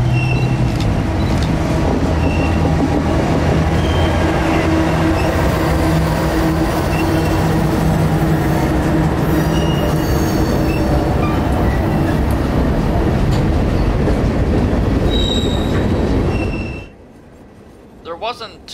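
A freight train hauled by two AC4400 locomotives rumbles past nearby in Central Florida for a long stretch, steady loud rolling noise with metallic wheel screeching, then cuts off abruptly to near quiet.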